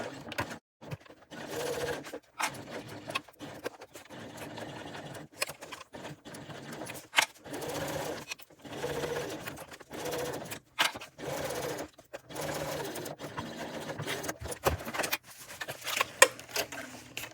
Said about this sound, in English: And now I will sew down both sides of the lining at 3/8 of an inch